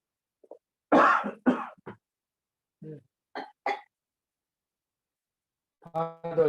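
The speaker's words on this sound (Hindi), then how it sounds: "तो खांसी हो रहा है।" Several harsh coughs close by, a cluster of sharp bursts followed by a few more scattered coughs and a throat-clearing sound, with silence between.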